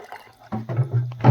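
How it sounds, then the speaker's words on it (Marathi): Water poured into a bowl of thin raw potato chip slices for soaking, a short splashing fill that starts after a quiet moment and swells louder toward the end. "तर ह्याच्यामध्ये पाणी टाकून"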